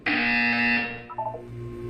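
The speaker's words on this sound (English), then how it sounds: "You will hear a buzzer." A single electronic buzzer in Portal 2 sounds loudly for about a second and then cuts off, followed by a faint low hum.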